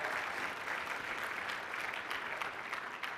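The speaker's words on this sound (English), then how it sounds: "give yourselves a round of applause just for making the investment to be here" A conference audience at a Cutco sales meeting gives a steady round of applause, a dense wash of clapping heard at moderate distance with no voices over it.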